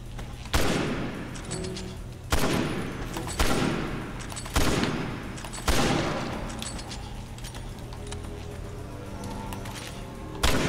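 Loud, separate gunshots in the game Resident Evil 6, five or six sharp blasts spaced a second or two apart, each one trailing off into a ringing echo.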